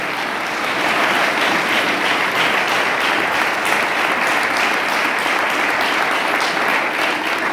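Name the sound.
congregation applauding for Jesus at Christmas sermon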